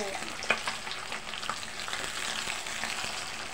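Squash pieces simmering uncovered in a pot of bulanglang vegetable soup, a steady close bubbling hiss with a few soft clinks near the start, continuous throughout with no voices.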